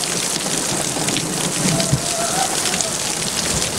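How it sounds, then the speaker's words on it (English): Heavy rain pours down steadily during a squall line with hail in Stone Mountain, Georgia, a dense, constant roar of drops hitting surfaces with a faint low rumble underneath. "It is pouring rain."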